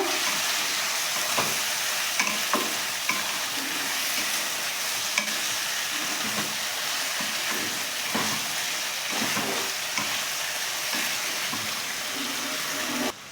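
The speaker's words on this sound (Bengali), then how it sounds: "চিকেনগুলো দিলাম চিকেনেতে নুন আর হলুদ মাখিয়ে রেখে একবার মিশিয়ে নেবো" Chicken pieces coated in salt and turmeric fry in a kadai with crushed garlic, giving a steady dense sizzle with scattered scrapes and clacks from stirring, close and continuous throughout.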